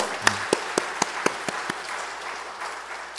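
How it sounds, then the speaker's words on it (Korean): Church congregation at a Friday prayer service clapping in encouragement after a prayer: a short run of about seven evenly spaced sharp claps over a soft room murmur, fading out after under two seconds. "격려의 박수 한번 해주세요."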